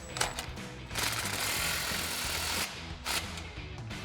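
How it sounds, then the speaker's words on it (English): An impact wrench with a 16 mm socket snugging an exhaust clamp on a Ford F-150 EcoBoost, a short ratcheting burst, then a sustained rattling hammer run of about two seconds and a brief final blip, close and loud. "now we'll grab our 16 mil socket on our impact"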